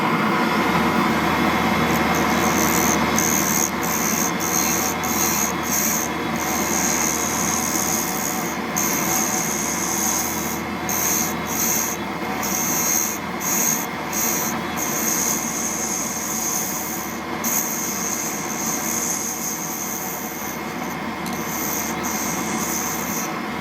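A carbide tool cuts a spinning pen cap of combined acrylic, wood and ebonite on a lathe, producing a continuous rough scraping hiss over the steady motor hum, with short breaks as the cut pauses, no talking.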